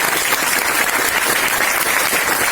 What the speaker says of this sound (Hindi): सर के लिए जोरदार तालियां चाहूंगा